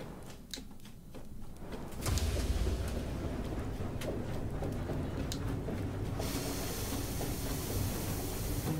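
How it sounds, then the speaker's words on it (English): Steam engine in the video game FAR: Changing Tides starting up, a steady loud broadband hiss and rumble that swells after a couple of seconds and holds continuously, with faint mechanical ticks over it. "Turn on the engine."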